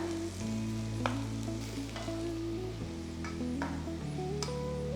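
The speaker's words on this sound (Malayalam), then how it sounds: "ഈ മസാല നന്നായിട്ടൊന്ന് മൂത്ത് വരണം, അതുവരെ ഒന്ന് വഴറ്റിയെടുക്കുക." Ground masala mixture for chicken mappas sautéing in a pan, a continuous close sizzle with occasional stirring scrapes and a low steady hum underneath.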